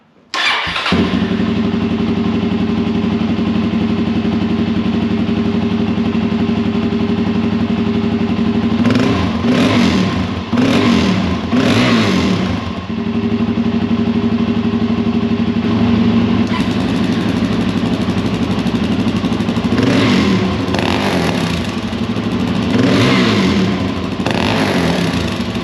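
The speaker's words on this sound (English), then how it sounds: "let's hear the exhaust from the stock." A 2023 Suzuki DRZ400 on its stock exhaust starts and settles into a steady, loud, close single-cylinder idle, broken by several sharp throttle blips and revs that rise and fall back to idle.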